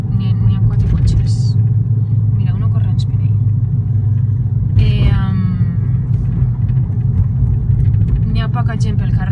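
A few cars pass along Hollywood Boulevard under a steady low road rumble, with a brief louder pass midway and a voice talking over the traffic.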